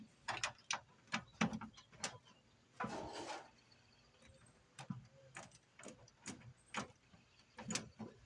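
Quick, faint clicking bursts of a ratchet snugging small bolts on an 82 Dodge Ramcharger, short uneven runs of clicks close by with pauses between them.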